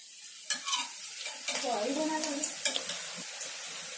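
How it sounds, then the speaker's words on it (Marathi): Onion bhaji (kanda bhaji) frying in hot oil as a spoon stirs them, giving a soft continuous sizzle broken by several close metallic clinks and scrapes against the pan. "आता चांगलं तळलंय."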